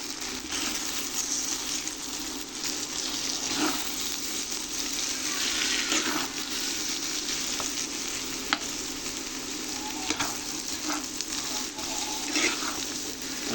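An egg fries in a pan of potato bhaji with a continuous loud, close sizzle, joined now and then by stirring scrapes.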